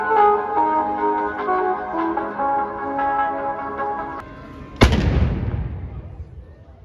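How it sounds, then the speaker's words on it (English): A noon cannon at the Peter and Paul Fortress in Saint Petersburg fires a single loud, booming shot that rolls off into a long fading echo, preceded by a steady outdoor hum and a ringing tone. "That's the noon cannon firing."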